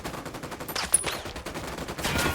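Gunfire from the video game Ghost Recon Wildlands cracks in a brief rapid volley of shots over a noisy game background, moderately loud and close, with no talking.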